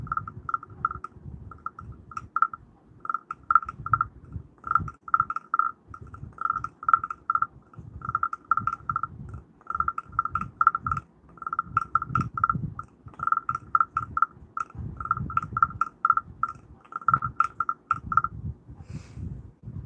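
A tree frog calls in a forest during an outdoor sound-therapy gathering, a rapid train of short, repeated clicks or chirps at an even pulse, fairly close, over soft low rumbling.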